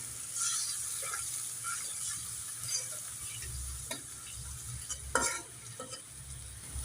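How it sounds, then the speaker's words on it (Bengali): Ginger-cumin paste with ground coriander, chilli, turmeric and salt fried in a pan, a low crackling sizzle with intermittent clicks and scrapes of a spoon, including one sharper knock near the end, quiet and without talk. "আমি আসলে মশলাটা কষাচ্ছি।"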